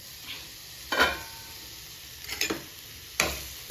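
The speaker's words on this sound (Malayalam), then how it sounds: "അത് നല്ലവണ്ണം ഒന്ന് വഴന്ന് വരട്ടെ." Banana flower and cowpea thoran sautéing in a pan: a soft, steady sizzle broken by three brief scraping stirs of a spoon against the pan.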